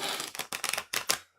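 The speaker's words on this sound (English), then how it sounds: "Sitting here shuffling my cards, as I am wont." Tarot cards are shuffled in quick dry riffling bursts, close and fairly quiet, a few short flurries in a row with no voices.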